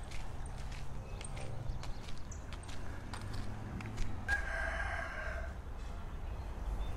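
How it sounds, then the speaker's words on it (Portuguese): A neighbour's rooster crows on a street in a rural mission area, its call moderately loud over steady outdoor background noise, with no talking. "O galo do vizinho. Olha aí, ó. Eita, galo abençoado."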